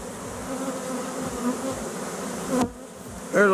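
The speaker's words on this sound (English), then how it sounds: "there's a lot of bees in there." A dense, steady buzz of many bees fills the air up close, continuous and unbroken, with no voices.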